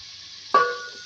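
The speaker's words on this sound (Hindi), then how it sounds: "अब इसको मैं फ्राई करूँगी ऑयल में डाल के।" Chopped vegetables, about 250 grams, hit hot cooking oil with a sudden sizzling burst midway, after near-silence, then settle into a steady, softer frying hiss.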